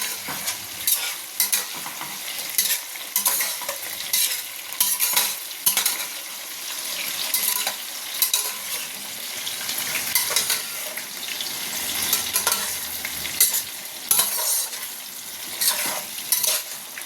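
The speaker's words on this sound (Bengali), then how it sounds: "তো আলু কুমড়োটা আমি বেশি ভাজা করবো না, হালকা ভাজা করব।" Potato and pumpkin pieces fry lightly in a pan for khichuri, a steady close sizzle broken by repeated scraping, stirring strokes of a utensil against the pan.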